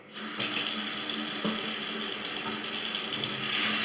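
Water runs steadily from a mixer faucet during a leak test after repair, a constant close hiss and splash with no pauses.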